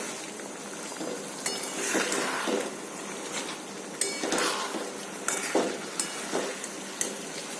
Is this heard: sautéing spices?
yes